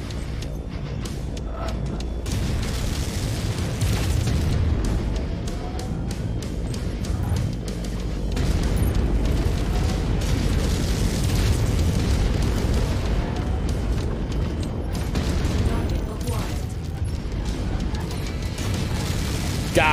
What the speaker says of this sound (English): I knew I had rockets.